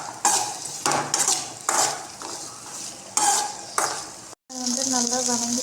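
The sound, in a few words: tomatoes and onions sautéing in a pan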